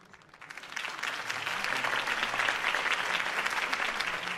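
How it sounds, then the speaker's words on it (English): A crowd in the video game Batman: The Telltale Series claps steadily, the applause swelling after a quiet start into a dense, sustained patter that holds to the end. "could have heard that applause"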